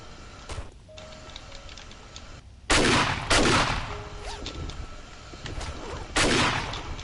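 Shotgun blasts fired into terrain to dig in the zombie survival game 7 Days to Die: three loud, sharp booms spaced a few seconds apart, each with a decaying tail, over quiet ambient noise with faint ticking.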